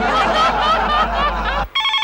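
A mobile phone rings loudly and steadily for about a second and a half, then cuts off and gives way to a brief, thinner electronic tone, with no talking.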